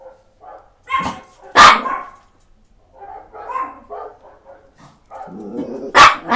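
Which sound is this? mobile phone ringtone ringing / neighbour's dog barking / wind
neighbour's dog barking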